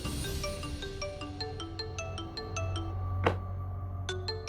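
A mobile phone ringtone plays a repeating melodic pattern of clear electronic notes at moderate volume in a home setting, with a brief clatter partway through and low background noise.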